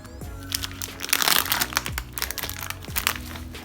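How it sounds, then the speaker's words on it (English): Sausage packaging crinkles and crunches as it is cut open for a samosa filling, a close, busy run of plastic rustling and snapping over nearly four seconds with no talk. "I have here some sausage, and I'm gonna cut this open"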